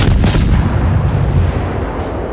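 Heavy warship main guns firing in a naval combat video game, a dense, loud booming roar that rumbles continuously for about two seconds with a sharp blast near the start.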